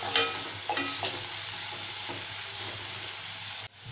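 Onion and tomato are stirred in a sizzling pan, a spoon scraping and clinking a few times over a constant frying hiss, before the sound cuts off abruptly near the end.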